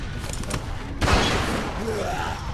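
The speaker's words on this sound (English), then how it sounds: "Vince! Fire the fucking gun!" A loud close gunshot blast with a sharp onset and lingering rumble in The Walking Dead video game (400 Days), amid background game noise and a voice.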